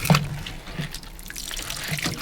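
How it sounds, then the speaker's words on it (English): Water runs and trickles steadily from disconnected pipes in a boiler room, with scattered drips and splashes close by and no talking. "it's still flowing. I guess it's a lot of water."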